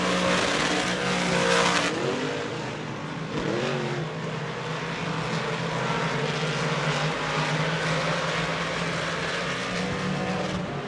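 Modified race cars at Merrittville roar around a dirt track, a loud sustained engine drone with rising and falling revs as cars pass, one smoking but still running strong.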